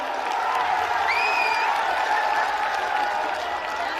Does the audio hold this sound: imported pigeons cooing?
no